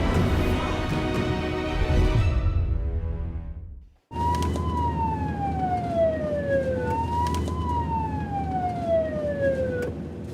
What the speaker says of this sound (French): Une ambulance de retour du front.